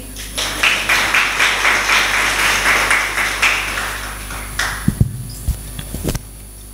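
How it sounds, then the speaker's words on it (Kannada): An audience claps hands in a steady, rhythmic beat for about four seconds, the claps fairly close and even. A few scattered sharp taps and knocks follow as the clapping dies away. "ಚಪ್ಪಾಳೆ ತಟ್ಟಿ."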